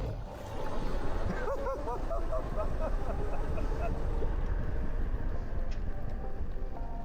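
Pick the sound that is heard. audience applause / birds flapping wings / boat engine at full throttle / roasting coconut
boat engine at full throttle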